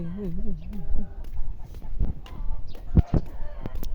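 Free-range chickens cluck and cackle nearby amid outdoor farmyard noise, with a few sharp knocks and people talking over them.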